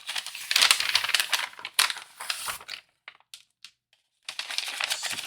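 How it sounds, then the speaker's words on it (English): Bits of a 1:2 scale Agora Xenomorph model kit from Alien, stage 14, being pulled out of a plastic bag, giving close crinkling and rustling in two busy bursts around a short quiet gap with faint clicks. "let me get this stuff out of the bag here"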